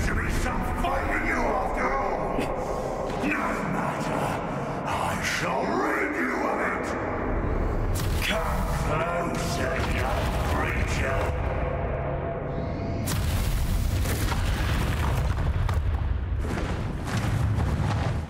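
Bombarda spell blasts in Hogwarts Legacy during a dragon fight with Ranrok: repeated booming explosions with echoing tails over a dense rumble of game effects, while a player talks throughout.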